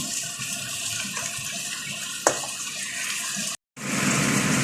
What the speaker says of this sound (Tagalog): Lagyan ko siya ng tubig. Yung tubig lang guys.